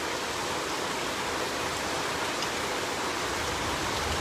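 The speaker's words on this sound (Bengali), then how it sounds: "দেখতে পারা, প্রচুর পরিমাণের বৃষ্টি, প্রচুর পরিমাণের বৃষ্টিদের।" Heavy rain pours down in Sylhet during flooding, a dense, unbroken wash of hiss at steady loudness with no pauses or voices.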